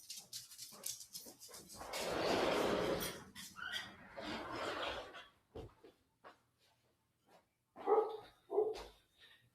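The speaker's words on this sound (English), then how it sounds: "I got to let my dog out real quick." A household dog barks and whimpers indoors in several uneven bursts, some close and loud, with quieter gaps between them and no talk over it.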